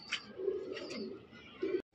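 Large Giribaz pigeons, red-eyed with white beaks, coo in soft repeated low rolling calls close by, with a faint higher note over them and a short gap near the end.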